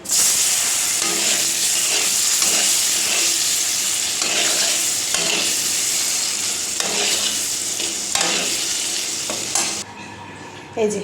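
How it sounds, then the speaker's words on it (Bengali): Paneer fries in hot oil seasoned with salt and turmeric, giving a continuous close sizzle with repeated stirring scrapes and no voices. "এবার এখানে এই যে তেল বসিয়ে দিয়েছি, একটুখানি হালকা করে ফ্রাই করে নেব।"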